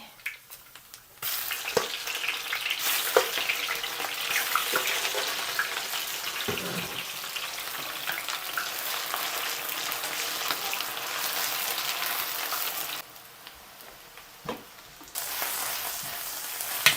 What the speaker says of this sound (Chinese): 姜、葱、大料，爆锅， 放酸菜。